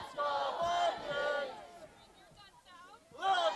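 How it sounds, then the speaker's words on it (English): Crowd at a college soccer national quarterfinal yelling and cheering in bursts, with a loud surge at the start, a lull of scattered voices, then another swell near the end. "Crowd loud and proud today."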